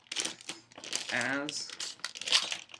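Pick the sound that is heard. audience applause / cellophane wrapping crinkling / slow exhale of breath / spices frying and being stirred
cellophane wrapping crinkling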